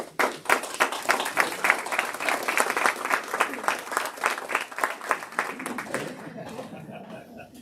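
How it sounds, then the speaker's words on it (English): Audience applause at the Northwoods Credit Union 87th annual meeting: a room of people clapping in a brisk, fairly even rhythm at close range, holding steady for several seconds before thinning out and fading. "Never had anybody applaud before."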